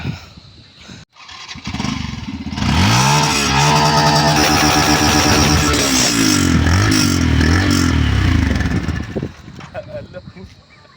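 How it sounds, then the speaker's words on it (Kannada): A Yamaha FZ-V3 motorcycle starts and revs, its exhaust note climbing through several throttle blips at close range before dropping back to idle, with voices briefly audible around it. "ಸರಿ ಈಗ ಎಕ್ಸಾಸ್ಟ್ ನೋಟ್ ಕೇಳೋಣ"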